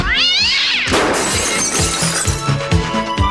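A cat in a French cat-food commercial lets out a loud, wavering, drawn-out yowl, then a burst of crashing and shattering. Heavy clatter and thumps follow, up close and with no speech.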